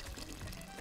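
Water poured over rice in a cooking pot, a brief, faint, soft pouring trickle heard close by, alone and without speech.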